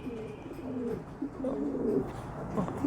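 Young pigeon squabs coo softly in a loft, low murmuring coos overlapping in short repeated phrases, fairly faint and close with no talk.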